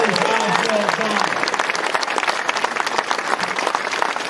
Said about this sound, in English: please give them and their entire team a round of applause for a job well done